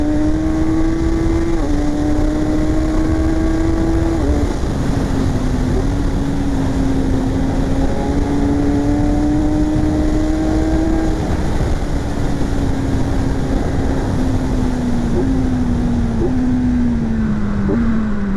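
A 2026 Kawasaki Z1100 engine roars loud and close while riding, with the revs stepping cleanly as the quickshifter clicks through gears up and down, steady drone throughout and no talking.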